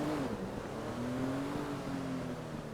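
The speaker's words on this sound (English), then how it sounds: "God, what a noisy car." A noisy car in GTA V drives by at night with a steady droning engine tone that shifts slightly in pitch, loud and continuous over a rough rumbling background.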